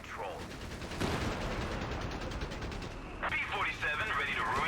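Strafing runs in Company of Heroes 3 with US forces, heard as dense rattling gunfire bursts over game sound effects, fairly loud, with a voice talking over part of it.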